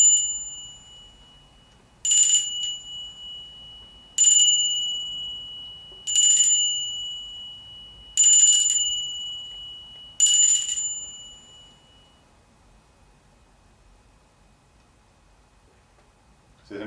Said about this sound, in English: And to ring this bell now to bring you to the sound